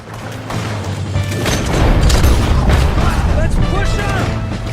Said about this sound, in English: That guy on the cliff will keep shooting at you.